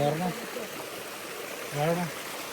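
Steady broadband rush of falling water fills the clip, with a person speaking briefly over it at the start and again near the end.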